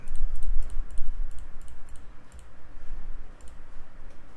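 Computer mouse clicked again and again at an uneven pace, sharp close clicks over a low background hum, with no talking.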